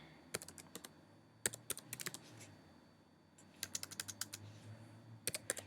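Keystrokes on a computer keyboard clatter in quick irregular bursts with pauses between them, fairly soft and close, with no talking.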